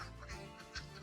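Domestic ducks at a resting and gathering spot beside their pen give a couple of faint, short quacks within about a second.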